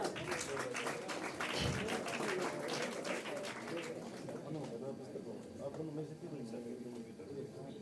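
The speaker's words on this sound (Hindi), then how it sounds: "जोरदार तालियां" Applause from an audience at a university constitution celebration event, a dense, continuous patter of many hands sustained throughout, with some background voices mixed in.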